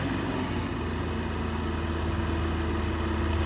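A Belarus 520 tractor idles at a tractor pulling contest with a steady, low, throbbing engine drone, fairly quiet and unbroken throughout, with no talking.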